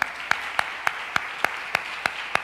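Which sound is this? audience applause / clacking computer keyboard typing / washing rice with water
audience applause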